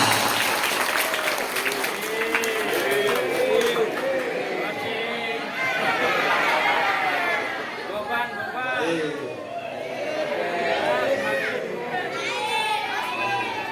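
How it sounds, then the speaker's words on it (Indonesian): An audience applauding for Akila inside a mosque, steady sustained clapping mixed with crowd chatter and a voice speaking over it. "tepuk tangan dulu untuk Akila"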